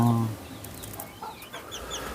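A crested Poland chicken clucks once in a short, fairly loud burst close by, followed by faint, sparse chirps and light background noise.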